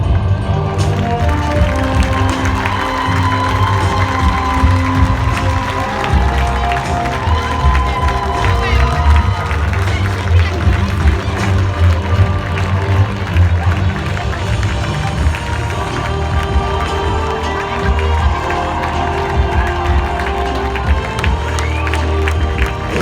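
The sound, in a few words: applause and cheering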